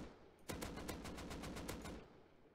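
A single rapid burst of roughly a dozen AK rifle shots in the video game Rust rattles out at an even, fast pace for about a second and a half, then stops, with nothing else heard.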